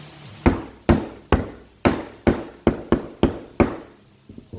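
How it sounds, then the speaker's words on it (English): Bearings being tapped into a Surron electric dirt bike jackshaft with a nylon hammer: eight sharp, ringing knocks at a slightly irregular pace, close and loud, followed by a few lighter taps. "I can just tap these in with a nylon hammer."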